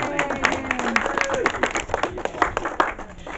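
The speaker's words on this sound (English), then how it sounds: "Let's give her a round of applause." A crowd at a Mystery Spot roadside attraction claps in a brief burst of scattered applause, mixed with a few voices talking.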